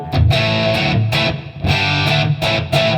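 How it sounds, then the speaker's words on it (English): Heavy distorted electric guitar chords ring out loud with a spacious reverb tail, strummed in bursts with brief gaps between hits. "So we got the reverb on."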